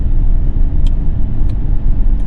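A car cruising in fifth gear at about 100 km/h and 2000 rpm on a newly opened road over the Manawatu from Palmerston North to Woodville, producing a steady low engine drone and tyre rumble with a couple of faint ticks.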